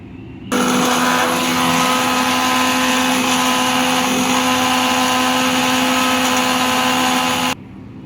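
An electric mixer grinder whirs loudly and steadily for about seven seconds, grinding spices into fine powder for homemade baby cereal, starting and stopping abruptly.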